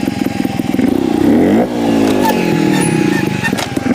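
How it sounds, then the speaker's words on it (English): A trials motorcycle engine revs hard during a rolling nose wheelie, loud and close, with rising and falling pitch sweeps and rattly mechanical clatter. "next we're gonna try a rolling nose wheelie."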